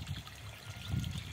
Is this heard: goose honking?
no